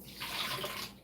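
About two-thirds of a cup of water is poured into a blender for cashew mayonnaise. It is a brief, soft splashing pour that rises and fades within about a second, close by and without voices.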